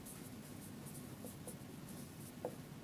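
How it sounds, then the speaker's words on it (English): Faint, soft scratches of writing during a calculus lecture on derivatives, a few sparse strokes barely rising above a steady low room hiss, with no talk. "Okay, so let me write that down."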